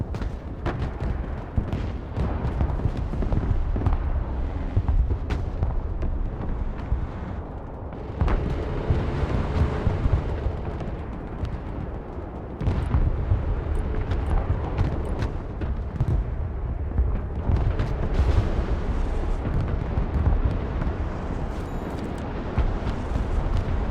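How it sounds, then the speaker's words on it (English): Artillery carrying out a direct-fire mission in a real-time strategy game thunders continuously, with dense rumbling booms and explosions layered into a loud, sustained barrage that swells and dips without pause. "Send fire mission. Engaging targets with direct fire."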